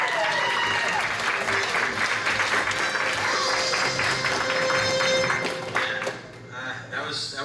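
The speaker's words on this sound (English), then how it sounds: "But let's give a round of applause" Audience applause at a convention game show at PortConMaine 2023, steady dense clapping throughout with some voices mixed in, tapering slightly near the end.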